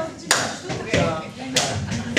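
A stomp-and-clap rhythm beats out as backing for a fraction rap, with sharp, evenly spaced hits about every second, close and fairly loud.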